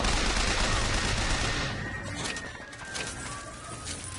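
Rapid gunfire from a weapon in the first-person shooter Bioshock Infinite, a dense loud burst of shots filling the first second and a half, then thinning into scattered quieter shots and game ambience.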